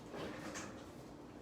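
A kitchen drawer slides open with a soft scraping rumble and light rattle of contents, a brief close-miked sound in a quiet room while scissors are hunted for.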